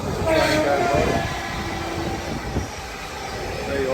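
Train passing by on a hiking route in Devon, a steady loud rumble of rail wheels with faint squeals and a brief horn-like tone, heard outdoors in the open.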